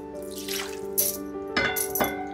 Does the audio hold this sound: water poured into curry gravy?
yes